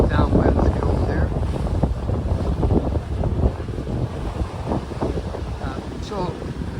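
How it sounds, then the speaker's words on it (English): Strong wind buffets the microphone in a continuous roar during a sailboat race, with water rushing around the boat and a voice talking faintly underneath. "It's pretty windy out here"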